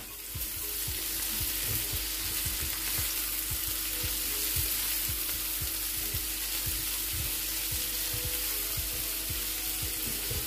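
Garlic, leek and celery fry in a pan, a steady close sizzle with faint rhythmic scraping as the vegetables are stirred throughout.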